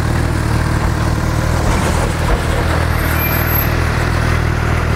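A Suzuki GSX-R750 sport motorcycle engine idles steadily with a low, throbbing rumble that holds even and continuous throughout, fairly close and loud.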